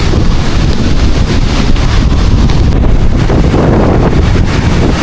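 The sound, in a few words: strong wind and big waves on the beach in Boracay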